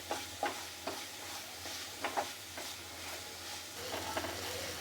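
Masala for dhaba-style paneer is stirred and roasted in oil, with a soft steady sizzle under repeated scraping strokes of a spoon against the pan, close and moderately quiet.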